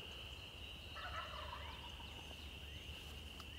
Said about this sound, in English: Good possibility that they're jakes with the way their gobbles sound, but I'm hearing birds